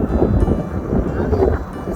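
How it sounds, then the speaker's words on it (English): Steady wind buffets the microphone with a low, rumbling roar that barely lets up, outdoors in Bentonville, Arkansas, near kite flyers. "It's windy."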